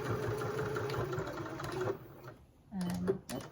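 Sewing machine stitching ties onto an advent calendar, a rapid mechanical whirr running for a couple of seconds, then a short pause and a brief burst of back stitches; a person speaks nearby.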